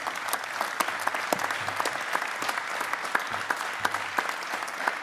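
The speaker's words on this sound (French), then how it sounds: "Alors je vous demande de les applaudir, parce que c'est vraiment fantastique." Sustained audience applause at a pétanque meeting press conference, a dense steady patter of many hands clapping throughout, fairly near and even in loudness.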